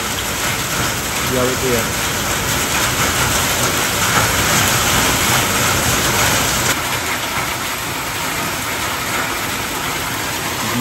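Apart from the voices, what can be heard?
heavy hailstorm hitting a car on a mountain road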